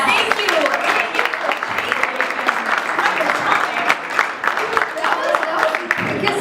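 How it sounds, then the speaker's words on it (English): Convention audience applauds a cosplay couple dressed as Princess Bride characters at a Phoenix comic convention, a steady, close burst of clapping with mixed cheering and crowd chatter throughout. "I think the Princess Bride couple needs a round of applause"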